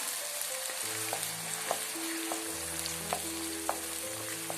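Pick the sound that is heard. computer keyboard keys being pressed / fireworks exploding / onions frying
onions frying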